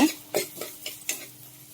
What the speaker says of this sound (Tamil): வெங்காயத்தை போட்டு நல்லா வதக்கி விட்டுக்கோங்க.